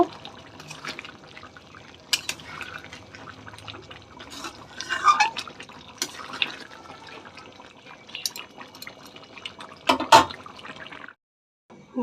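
Shahi garam masala is stirred into simmering chicken curry gravy, giving soft, wet squelches and drips, close and faint, with a few louder splashes.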